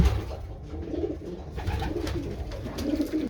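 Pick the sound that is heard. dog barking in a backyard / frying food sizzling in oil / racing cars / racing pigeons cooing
racing pigeons cooing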